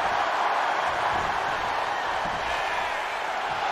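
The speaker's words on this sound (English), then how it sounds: "We know she loves to hear those cheers." Crowd noise in a WWE 2K23 wrestling video game match: a steady, dense roar of cheering fans fills the arena, broad and unbroken, at even loudness throughout with no clear individual voices.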